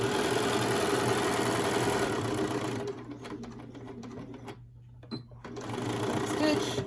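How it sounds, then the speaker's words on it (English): A sewing machine stitches a surgeon's cap with a fast, loud mechanical whir, then slows into a few short back-stitch bursts and a click before running again, with talking alongside. "Back stitch, clip."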